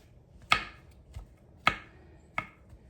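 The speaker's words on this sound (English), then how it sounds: "I'm just kind of rough chopping an 8-ounce package of Baby Bella mushrooms" A knife rough-chopping Baby Bella mushrooms on a cutting board, a few sharp, separate cuts spaced unevenly about a second apart, close and clear in a quiet room.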